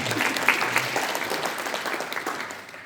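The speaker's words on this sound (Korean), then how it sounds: "큰 박수 한번 쳐주시기 바랍니다" A room of club members at a meeting gives a big round of applause, a full, continuous patter of many hands that stays moderately loud and even throughout.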